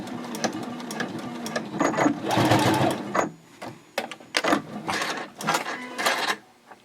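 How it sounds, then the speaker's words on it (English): Sewing machine stitching the bottom seam of a fold-flat fabric project bag with a half-inch seam allowance, heard as close, bursts of rapid mechanical whirring in short runs with brief pauses between, then a backstitch. "And now I'll just sew off to the bottom of the bag."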